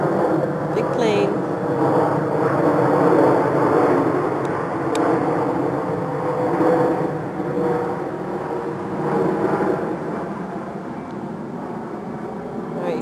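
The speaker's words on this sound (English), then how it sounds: "Big plane." A broad, steady roar of a large airplane passing overhead, with people talking throughout.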